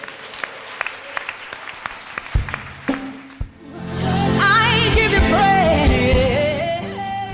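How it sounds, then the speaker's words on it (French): Congregation at an evangelical church service in Abidjan, Côte d'Ivoire, breaking into loud sustained clapping and cheering that swells and holds, following earlier music and speech. "Give the Lord a big clap."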